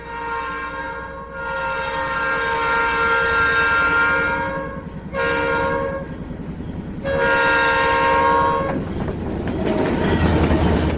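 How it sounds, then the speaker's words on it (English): Three red diesel locomotives pass close by, their deep engine rumble rising and falling as loud blasts of a multi-tone horn sound three times over steady wheel clatter. "There's 3 red diesels."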